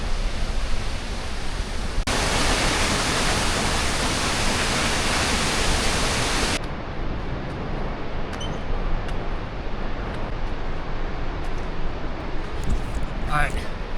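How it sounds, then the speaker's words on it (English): Waterfall spray from Fremont Falls splashes across Yosemite's Mist Trail as a loud, continuous roar. The close rushing wash surges louder for a few seconds before settling back to a steady hiss. "all of the water from the waterfall, Fremont Falls, splashes and it hits all the trail"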